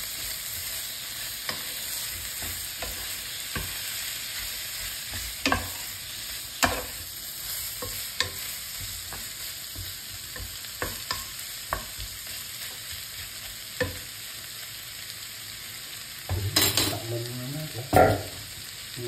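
Leftover lechon sautéing with garlic and onion in a pan, a steady loud sizzle of frying throughout, broken by scraping stirs and a burst of heavier clatter near the end.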